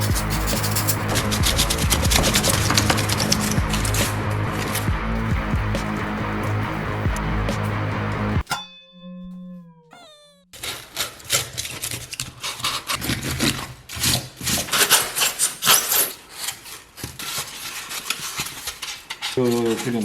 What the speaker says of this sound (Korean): 지금 깎고 있는 이 부분.